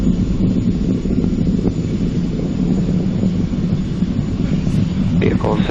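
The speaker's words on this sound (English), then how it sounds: "Falcon 9 has cleared the tower and is now headed upward on its mission to sun-synchronous low Earth orbit" A SpaceX Falcon 9 rocket clears the launch tower with a deep, continuous low roar and crackle, heard from a distance under a steady wash of wind.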